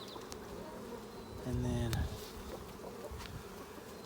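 Honey bees from a 2019 swarm colony buzz steadily and densely up close while a hive with foundationless frames is opened for inspection. A louder burst swells midway, and a voice speaks briefly over the hum.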